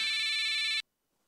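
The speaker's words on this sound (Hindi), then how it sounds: "तुमने कहा और उसका फोन आ गया।" An electronic phone ringtone trills loudly for under a second, then cuts off abruptly into near silence.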